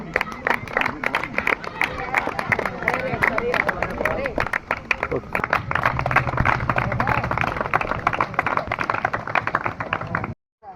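An audience claps at a celebration for a hero's achievement, sustained dense applause mixed with crowd chatter, loud and close, ending abruptly.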